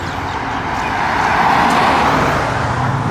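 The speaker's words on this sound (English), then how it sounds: "Let these cars get out of the way." Cars passing on a road outside the Schofield Barracks gate, a continuous loud wash of tire and engine noise that swells in the middle as vehicles go by close, with no voices.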